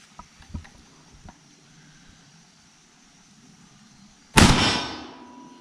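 A single AK-47 rifle shot fired with a bare muzzle and no brake or suppressor, a sharp loud blast followed by a ringing decay, after a few faint clicks and handling noises.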